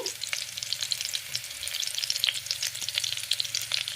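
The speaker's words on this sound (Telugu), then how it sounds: "వంకాయలు నెయ్యిను ఆయిల్ వేసాను కదా మగ్గిపోతున్నాయి" Stuffed eggplants cook in ghee and oil in a pan, giving a steady, close sizzling and crackling with fine spattering pops throughout and no talking.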